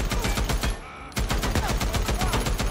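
Rapid, loud automatic gunfire from a newly picked-up gun in a zombie survival game, close bursts of fast repeating shots broken by one short pause, with no talk over them.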